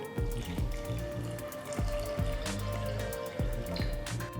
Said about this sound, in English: Pour enough water so that the dals are completely immersed.